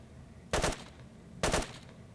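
Gunfire from the video game Squad comes as two short bursts of rapid automatic shots, spaced about a second apart. The shots sound moderately close against quiet background noise.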